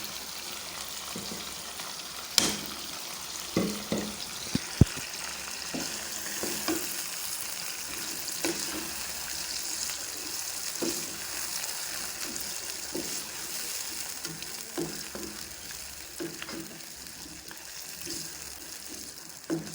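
Tomato and onion paste frying for chicken korma, a quiet, steady sizzle with scattered spoon scrapes and a couple of sharp knocks early on, heard close with no talking.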